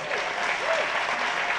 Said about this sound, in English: is entitled to a bigger round of applause